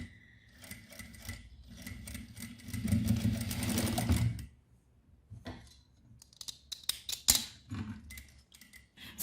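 A sewing machine stitches down the side of a kitchen apron sewn from fabric scraps, whirring in one loud continuous run for about four seconds, followed by scattered clicks and handling noises.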